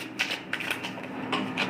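Tarot cards being reshuffled by hand, a few quick soft riffling and slapping bursts close by, with no talk.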